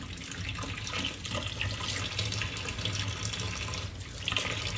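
Tap water running into a kitchen sink plugged with a drain stopper, with a little dish soap added, a steady splashing hiss at close range that keeps an even level throughout, no voices.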